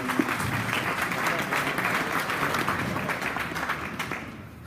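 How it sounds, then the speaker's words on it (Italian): A crowd applauds steadily and fairly loudly for a presenter's female assistant at an Alfa Romeo Stelvio launch event in a car dealership in Gorizia, the clapping holding for several seconds before thinning slightly at the end. "un applauso all'aiutante"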